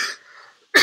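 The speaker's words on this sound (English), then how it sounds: "I'm going to cough on you guys." One short, dry cough, then a brief pause before a second harsher cough bursts out, close and loud.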